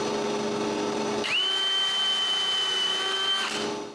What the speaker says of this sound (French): je perce deux trous.